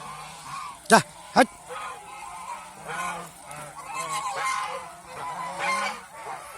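Geese on a goose farm honk close by, two sharp loud honks followed by a steady chorus of softer honking and gabbling from the flock, with people talking in the background.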